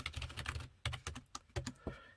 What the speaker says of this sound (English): I just wanted to go ahead and test out the sound of the keys here.